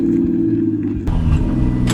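Chevy Nova fitted with a 1JZ engine rumbles steadily at low revs on its first test drive down a street, a deep continuous drone with a brief shift in tone midway and a short rattle near the end.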